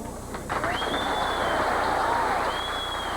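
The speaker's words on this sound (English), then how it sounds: "This crowd applauding for Mark Roth" A televised bowling crowd claps and cheers for a pro bowler's strike, sustained applause filling the arena steadily with a few faint whistles riding on top.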